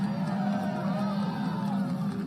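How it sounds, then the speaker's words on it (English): A large crowd at an outdoor political rally cheers and claps in a sustained, dense roar with whoops and shouts mixed in, no single voice standing out. "Well, don't clap too hard."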